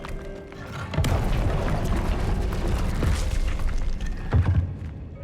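Confringo fire spell explosion in Hogwarts Legacy, a loud booming blast with a deep rumbling body that sustains for several seconds, followed by a second heavy thump near the end.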